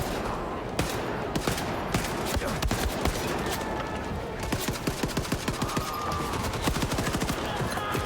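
Dense gunfire in the shooter Wolfenstein II: The New Colossus, with rapid automatic bursts and scattered single shots layered over a constant loud battle din for the whole stretch.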